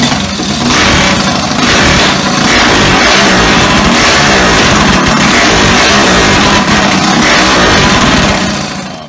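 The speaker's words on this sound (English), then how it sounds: "They sent me the initial startup of the engine. Things I've never heard a big block rev that fast." A big block engine fires up and revs hard in quick bursts, a loud close roar that swells and falls several times before settling toward the end.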